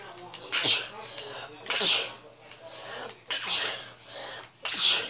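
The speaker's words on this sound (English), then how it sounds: "Sorry for my sneezing." Four sharp sneezes burst out at roughly even intervals, each a loud breathy explosion, close to the listener with quiet pauses between them.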